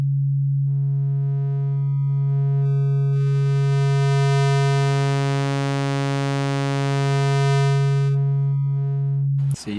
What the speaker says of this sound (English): I'm going to start with the first bank and just give you some sweeps.